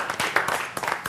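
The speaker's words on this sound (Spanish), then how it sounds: "Aplauso para Titi" Audience applause for Titi Fernández at a live event, steady crowd clapping with a few louder bursts, fairly near and filling the whole short moment.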